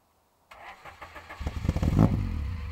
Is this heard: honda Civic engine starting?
yes